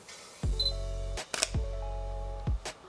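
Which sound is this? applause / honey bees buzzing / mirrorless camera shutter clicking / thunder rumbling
mirrorless camera shutter clicking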